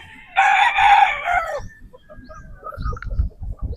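Boston Roundhead brood stag rooster crowing once, loud and close, a single drawn-out cock-a-doodle-doo followed by soft clucks and low farmyard noise.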